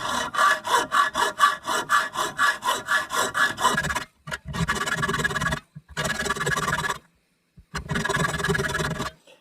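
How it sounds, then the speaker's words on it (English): Hacksaw cutting slowly into a lock to make a cutaway: a run of steady, rhythmic back-and-forth strokes, close and loud, then longer continuous bursts of sawing separated by short pauses. "So now I'm just going to go and start with my hacksaw, and I'm just going to go nice and easy."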